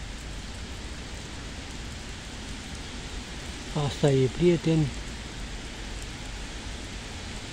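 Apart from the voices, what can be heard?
rain falling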